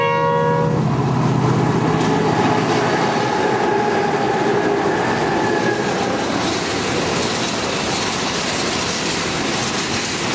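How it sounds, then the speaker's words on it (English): A heavy coal ore train running between Leigh Creek and Port Augusta, South Australia, rumbles past continuously and loudly, a horn sounding at the start, wheels grinding and clattering steadily on the rails. "noticed the old ore train going to Leigh Creek coming along the line"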